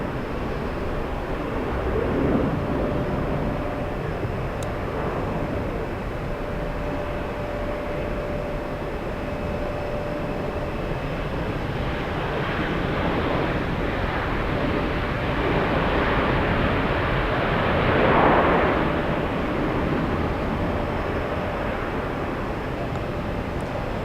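Steady, broad engine roar of an airliner climbing out after takeoff on a flight to Toronto, heard from a distance for the whole stretch, swelling gently at times with no talking.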